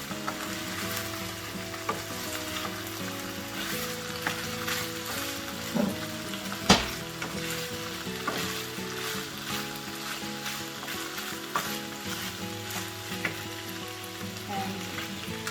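Chicken with onions and capsicum stir-fries over low heat, a steady sizzle broken by repeated scraping and clacking stirring strokes, one sharp knock near the middle, close and moderately loud, with no speech.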